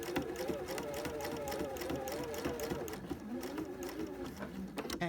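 A sewing machine stitching a diamond quilting design runs in a steady rapid mechanical chatter, close and moderately loud, with a few short pauses near the end.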